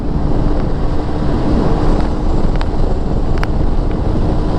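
Steady, loud wind roar buffets the microphone while a Honda PCX160 ABS scooter rides at speed into a headwind, a dense continuous rush with faint engine and road noise beneath and no talking.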